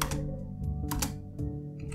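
A command being typed on a computer keyboard, a short burst of a few separate close key clicks in quick, uneven rhythm, with no talking.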